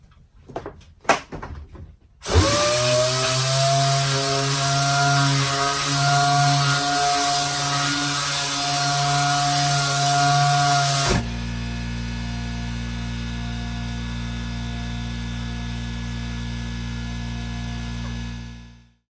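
A Dynabrade random orbital sander runs on a piece of wood with a loud, steady motor whine for about nine seconds, then drops to a lower, even hum before stopping. A few brief knocks come before it starts.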